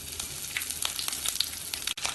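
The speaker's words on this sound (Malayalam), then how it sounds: "2 വറ്റൽമുളകും 1/2 ടീസ്പൂൺ ഉഴുന്ന് പരിപ്പും കുറച്ച് കറിവേപ്പില ഇട്ട് കടുക് പൊട്ടിക്കാം." Mustard seeds crackle and splutter in hot oil with dried red chillies, urad dal and curry leaves, a close, continuous sizzle dotted with quick pops and a short dip near the end, with no talking.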